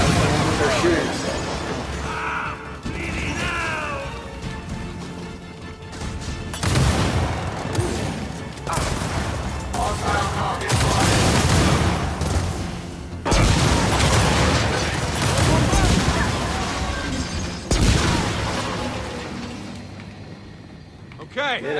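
Enemy gunfire in a video game raid, dense and continuous bursts of shooting and impacts running throughout, with people talking over the din.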